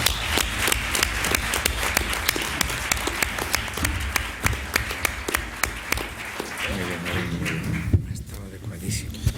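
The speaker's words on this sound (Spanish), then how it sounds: "pido a todos vosotros y a todas vosotras un fuerte aplauso para esta clase" A large audience applauds warmly for a class at a tribute event, steady dense clapping that thins out near the end as a voice begins to speak.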